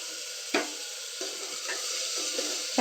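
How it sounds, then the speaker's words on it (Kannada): Field beans fry with onions in a pan, giving a steady close sizzle broken by a few soft stirring scrapes. "ಈ ಕಾಳನ್ನ ಕೂಡ ಈರುಳ್ಳಿ ಒಳಗಡೆ ಹಾಕಾದ್ಮೇಲೆ"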